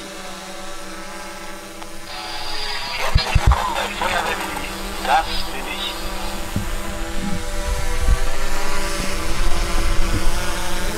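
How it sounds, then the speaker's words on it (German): A DJI Mavic Enterprise Dual drone's rotors whine with a steady buzzing hum that grows louder, while someone speaks briefly near the start. "weil wir die Drohne als Störgeräusch haben"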